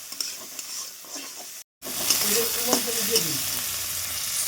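Chopped onion, garlic, tomato and green chilli frying in a pan while being stirred, a continuous close sizzle with occasional scraping knocks, briefly cut by a moment of silence before resuming.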